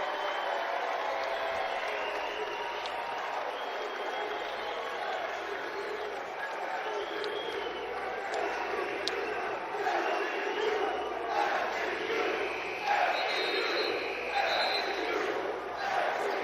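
A packed college basketball crowd at the Charleston Classic in Charleston roars loudly and steadily, a dense wall of cheering and shouting that swells near the end, with an announcer talking over it.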